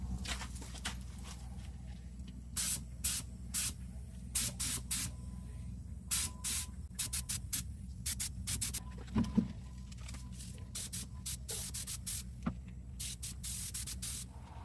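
Short bursts of aerosol spray paint lay a second coat over a repaired rust hole on a car door, coming in repeated close hisses of one to two seconds with brief pauses between, over a low steady background hum.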